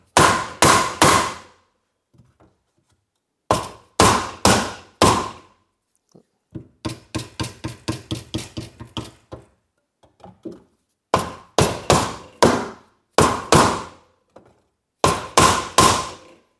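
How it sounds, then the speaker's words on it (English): Sharp metallic hammer blows on a rear end cover ring out in quick bursts of three or four, with a faster run of lighter taps in the middle, close and loud. "maybe I can use a hammer and hammer it a little bit."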